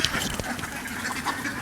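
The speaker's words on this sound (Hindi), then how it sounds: "आवाज़ आ रही है सिर्फ बतख की आवाज़ है" Ducks quack on a duck farm, a steady jumble of calls close by with no speech over them.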